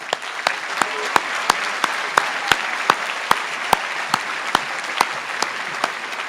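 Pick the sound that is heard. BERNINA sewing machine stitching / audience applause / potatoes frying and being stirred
audience applause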